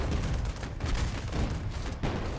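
Turret fire in the undead real-time strategy game Age of Undead comes as dense, rapid bursts of gunshots and booms during frontline combat, loud and continuous across the short stretch.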